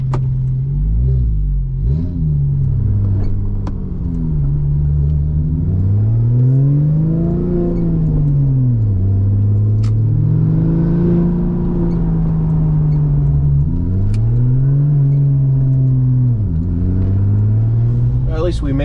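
A Porsche 996 Turbo running low on fuel drives steadily, its engine note rising and falling through several rev swells, with a voice speaking over the continuous drone.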